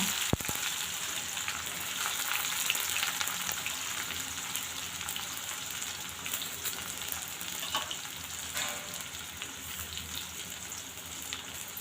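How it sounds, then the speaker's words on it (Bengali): Chopped onions frying with cumin seeds in hot oil, a loud, continuous close-up sizzle with steady hiss and faint stirring, no voices. "জিরা ফোড়ন দেব পেঁয়াজ কুচিগুলো দিয়ে দেব"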